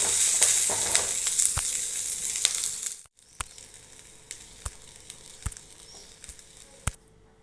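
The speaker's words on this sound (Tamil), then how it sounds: "கருவேப்பிலை நல்லா 3 கைப்பிடி. இதை நான் வதக்கிட்டு எடுத்துக்கிறேன்." Handfuls of curry leaves sauté in hot oil, giving a loud crackling sizzle for about three seconds before it cuts to a quieter pan, where sharp sporadic pops and ticks continue.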